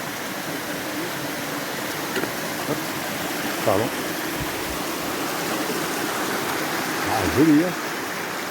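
A waterfall roars as a steady, broadband wash of falling water throughout, with people speaking a few short words over it.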